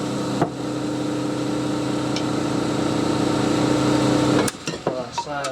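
A wood lathe spins a yew log while its end is turned, giving a steady, close whirring hum with faint tool scraping that runs on for several seconds, then cuts out abruptly into brief clatter.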